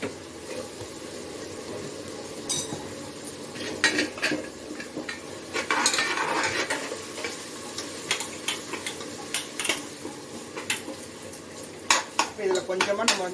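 Mushroom biryani masala sautéing in oil in a pan until brown, with steady faint sizzling under repeated clinks and scrapes of a stirring spoon against metal, louder bursts of clatter scattered throughout.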